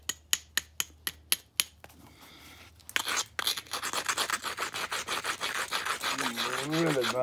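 Grinding a thin percussion tip, a run of sharp rhythmic rasping strokes giving way to steady, close, continuous abrasive scraping that grows louder, with a rising whine near the end.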